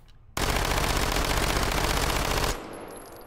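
A Micro Uzi in the video game Hot Dogs, Horseshoes and Hand Grenades fires one loud, continuous full-auto burst of about two seconds at a very high rate, then stops abruptly with a faint mechanical rattle.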